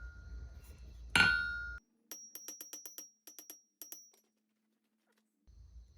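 Hot steel being hammered flat on an anvil while forging the handle of small pliers, a quick run of sharp metallic ringing strikes in bursts of two to four, close and clear, after a brief loud scrape and before a pause.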